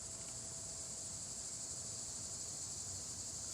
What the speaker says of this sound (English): Cicadas. Hear them?